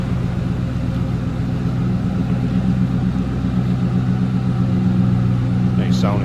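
Idling V8 of a 2001 Ford Mustang SVT Cobra convertible heard from behind the car, a steady low exhaust rumble holding evenly throughout at close range, with a brief faint chirp near the end.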